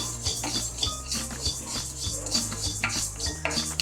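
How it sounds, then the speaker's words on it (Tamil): Urad dal is stirred while roasting in an iron kadai: continuous close scraping and rattling of a utensil against the metal pan, with no voices. "இப்போ உளுந்தப்பருப்பு போடுறேன்"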